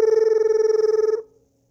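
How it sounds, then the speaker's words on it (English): Telephone bell rings with a rapid trill for about a second, then cuts off and fades into silence. "Hold on, excuse me, got a phone call."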